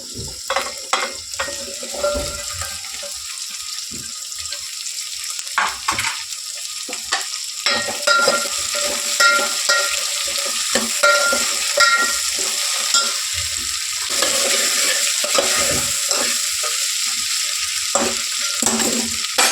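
Vegetables fry in a little oil for a Kannada-style nugge kai saaru, a steady close sizzle with frequent scraping stir clicks and crackles throughout, no talk.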